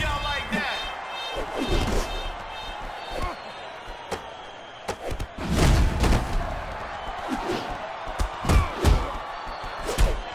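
Heavy punches and slams in the Def Jam Fight For NY cage match, several loud thuds and crashes spread across the clip over crowd noise and game sounds, with someone talking over them.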